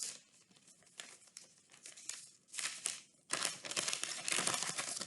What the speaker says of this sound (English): I'm actually going to rip this part out